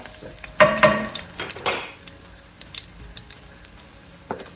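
Curry leaves, bay leaf, cinnamon and cloves hit hot oil as a tempering for Kathiyawadi khichdi, giving a loud close sizzle in two sharp bursts early on, then settling into a quieter crackle.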